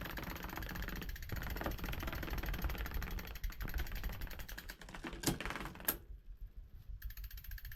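A Giant Yukon 2 fat bike with studded tires and chains shifts into its climbing gear on a winter trail, giving a rapid, loud clicking and ratcheting over continuous rolling noise, with a few sharper clacks near the end.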